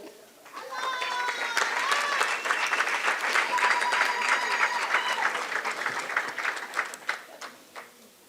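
A crowd at a graduation ceremony claps in a sustained round of applause that builds quickly, holds steady, then thins toward the end, with voices and a few whoops mixed in.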